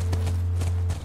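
Horse hooves clip-clop in The Last of Us Part I video game, a quick run of close, even hoofbeats over a low steady hum.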